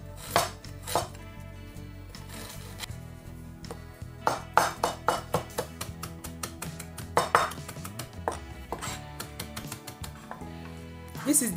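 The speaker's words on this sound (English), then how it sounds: "This is ginger. I finished cutting it." Kitchen knife cutting ginger on a board, heard as clusters of sharp, close chopping knocks in quick rhythmic runs with brief pauses, and a ringing clink of a pot or dish mixed in.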